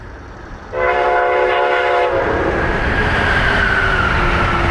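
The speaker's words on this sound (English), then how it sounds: "starting with a southbound Northeast Regional" Amtrak Northeast Regional train passing southbound near the station in Odenton, Maryland, with a loud horn blast of stacked tones followed by a steady, close rumble of railcars rolling by.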